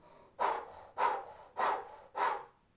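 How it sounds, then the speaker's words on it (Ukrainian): Four forceful breaths pushed out through the mouth in a steady rhythm during a kundalini yoga breath-of-fire exercise, each a loud, close, breathy burst with short pauses between. "І це як буде дихання вогню, але через рот."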